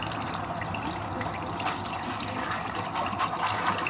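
Black-eyed peas being rinsed in a strainer, a steady broadband rush of running water pouring over them for the whole stretch, close and fairly even with small splashy fluctuations.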